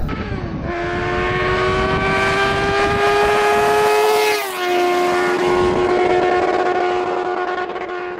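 A 100 HP Yamaha Banshee quad roars close and loud on a top speed run, its high two-stroke engine note climbing steadily, dropping briefly as it shifts, then screaming on continuously.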